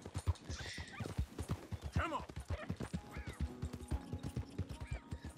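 Horse hooves clip-clopping in the Red Dead Redemption 2 video game, a steady rhythmic trot running throughout under continuous talk, with a brief whinny.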